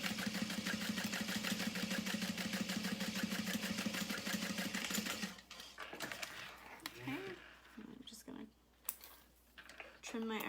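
A sewing machine runs a steady top-stitch along the bottom edge of a fabric beauty bag, whirring with a fast even rhythm for about five seconds, then stops, followed by quieter handling sounds and a few soft clicks.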